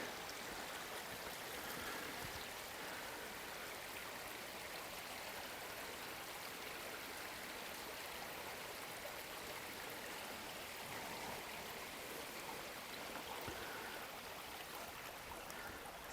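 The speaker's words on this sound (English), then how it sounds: "the water comes out of the ground in a handful of places here" Spring water welling out of limestone ground and flowing away downstream, a faint, steady babbling and trickling stream sound that continues evenly throughout, with no voices.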